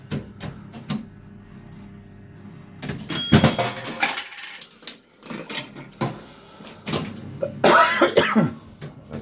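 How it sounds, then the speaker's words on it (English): A person coughing and clearing their throat in a few harsh, close bursts, separated by pauses and some faint mechanical clicks. "Terrible cough today."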